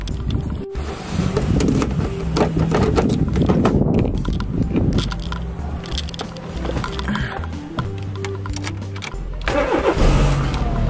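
A car engine turns over and catches, then keeps running in a steady mid-pitched drone that swells and settles as the revs change, loud and close throughout.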